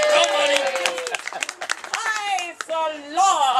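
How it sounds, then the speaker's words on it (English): Applause and clapping from an audience at a children's St. George and the Dragon play, greeting Barney, with a voice and excited chatter over dense, steady hand claps for a few seconds. "Applause."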